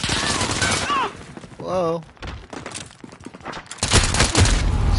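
Gunfire in the video game Warzone on Rebirth Island, dense rapid bursts of shots and thuds, loud and close, mixed with excited voices talking and exclaiming over the shooting.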